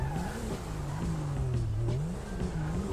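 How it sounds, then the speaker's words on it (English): Modded, fully upgraded Grotti Cheetah Classic sports car engine in GTA 5 Online, a steady near drone whose pitch rises and falls in repeated surges as the throttle is worked, with no talk over it. "Today we have a modded, fully upgraded Grotti Cheetah Classic."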